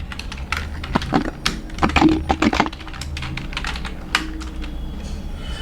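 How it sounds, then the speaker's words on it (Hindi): Rapid clatter of keys on a computer keyboard as an email address is typed into a registration form, irregular bursts of close, crisp clicks with no talking. "तो ईमेल आईडी मैं यहाँ पे टाइप कर देता हूँ।"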